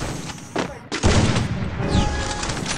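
Sniper rifle shots in a video game, a couple of sharp loud reports with a heavy boom and ringing tail, the second blast larger, fairly close, without talk.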